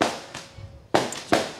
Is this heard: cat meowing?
no